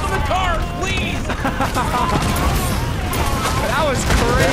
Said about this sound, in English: That explosion was huge.